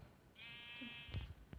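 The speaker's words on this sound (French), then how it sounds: "on en a plusieurs des moutons" In a video game, a sheep gives a single drawn-out bleat at moderate distance, followed by a few soft clicks and thumps of gameplay.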